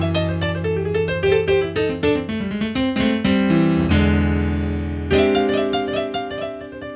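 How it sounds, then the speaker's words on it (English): Solo piano playing a blues riff, a lively run of repeated rhythmic chords and bass notes that pauses on a ringing held chord before a new phrase starts, loud and close with no talk. "blues riffs are just groups of notes that sound cool together"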